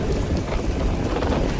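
Steady, dense rainfall with a rushing, noisy wash, heard up close and fairly loud, with a gusty windy rumble underneath.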